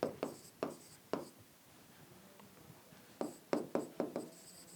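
Chalk or marker writing on a board in a chemistry lecture: short, sharp strokes come in two bursts, a few taps early and a quicker cluster later, with a quiet gap between them and no talking.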